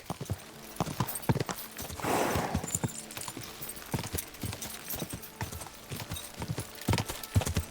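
Horse hooves clip-clop at a fast gallop in the Kingdom Come Deliverance 2 video game, a steady rapid drumming of close, fairly loud hoofbeats with a brief whinny-like burst, no talking.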